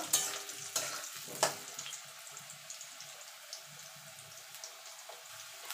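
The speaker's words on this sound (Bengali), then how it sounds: "প্রথমে আলুটা দিয়ে দেবো। আলুটা একটুখানি নাড়াচাড়া করে নেব।" Potatoes stir-fry in oil in a pan for a mixed vegetable curry, giving a soft, quiet sizzle. A few sharp utensil clanks come early, then light scraping and stirring continue.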